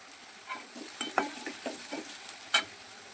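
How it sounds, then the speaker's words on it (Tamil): Onions, chillies and curry leaves fry in a pan while being stirred, giving a steady soft sizzle broken by several sharp scrapes and taps of the spoon against the pan, close by with no talking. "இது நல்லா கிண்டிக்கிறோம்."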